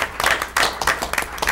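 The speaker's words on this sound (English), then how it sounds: "Another round of applause." Brief, uneven clapping from a small audience at a school board meeting, coming in short bursts at moderate volume.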